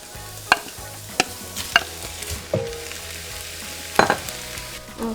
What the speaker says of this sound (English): give it a good stir so it mixes well together